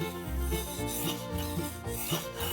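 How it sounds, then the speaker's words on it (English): Steady back-and-forth scraping of a cooking knife across a sharpening stone, rhythmic rasping strokes close up with no talking. "you're going to hear a scraping noise"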